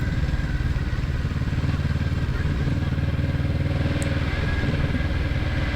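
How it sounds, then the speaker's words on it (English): A 2024 Kawasaki Z650RS motorcycle rides steadily along quiet roads near South Reno and Washoe Valley, its engine droning loud and continuous with a low rumble throughout, with no voices over it. "I'm probably the loudest thing here right now with the motorcycle"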